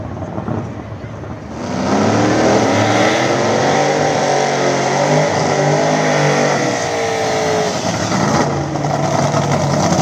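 An old-school small-tire Chevy Nova drag car at Killer Street accelerates hard down a sketchy track, its loud engine roar climbing through the gears for several seconds before easing off.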